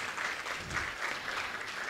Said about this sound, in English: I think he deserves a round of applause for this.